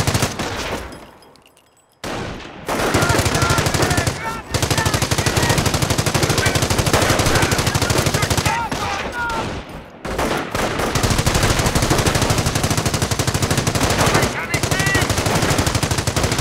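Squad machine-gun and rifle fire in the video game Company of Heroes, sustained dense bursts of automatic gunfire and explosions that drop out briefly, then roar back loud and continuous.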